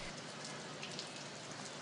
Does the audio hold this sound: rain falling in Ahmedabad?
yes